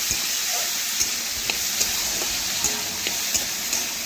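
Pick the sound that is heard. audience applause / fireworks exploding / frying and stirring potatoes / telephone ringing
frying and stirring potatoes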